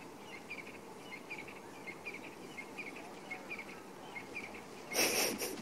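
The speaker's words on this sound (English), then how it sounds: "so the doves have started to call, and it's just got a lot louder suddenly" Doves calling at sunrise in the African bush at Djuma and Arathusa, soft repeated coos over a steady dawn chorus of birds and insects, ending in a sudden louder burst of sound.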